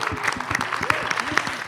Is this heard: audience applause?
yes